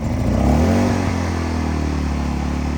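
An AIVOLT 1600W ultralight portable generator engine fires up and runs. A loud, close, rough mechanical chug rises briefly in pitch and then settles into a steady, continuous drone.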